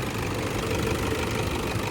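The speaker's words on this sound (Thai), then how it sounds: "เสียงเครื่องนิ่มๆเลยครับ เครื่อง2005นะฮะ VN Turbo สียงเครื่องยนต์เขาก็จะ นิ่มๆหน่อยนะฮะ" A 2005 Toyota Vigo Champ pickup with a 2.5 VN Turbo diesel idles smoothly and steadily, a close, even low rumble running alone without talk.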